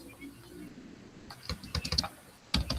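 Typing on a computer keyboard: sparse quiet clicks at first, then bursts of close, rapid keystrokes in irregular clusters.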